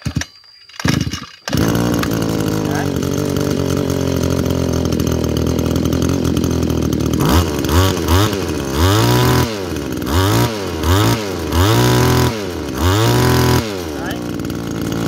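A used Japanese grass trimmer's small two-stroke engine runs loud and close, a steady buzzing drone after a brief start that later pulses in repeated revving surges.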